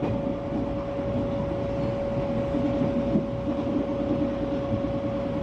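Steady rumble of a train running on tracks near Manggarai station in Jakarta, with a constant tonal hum and continuous wheel and rail noise, close and even throughout, no voices.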